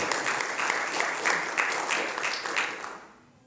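Church congregation applauding during a sermon: lively, even clapping from many hands that fills the room, then fades out near the end.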